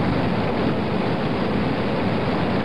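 A Titan II rocket launch on a Gemini mission roars as a loud, steady, broadband rushing noise, unbroken for a few seconds with no distinct whoop standing out.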